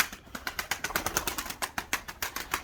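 Pigeons bursting out of a coop in a steady run of flapping wingbeats, close and fairly loud, with faint bird calls mixed in and no talking.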